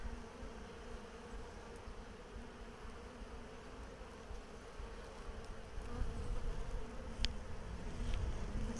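Honeybees hum in a dense, continuous drone around an open hive during an inspection, steady and close, with a brief sharper buzz as a bee passes near.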